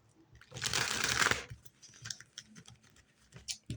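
A brisk riffle of tarot cards being shuffled, a short dense burst of papery flutter, followed by soft scattered taps and handling noises.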